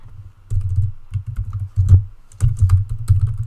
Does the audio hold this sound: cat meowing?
no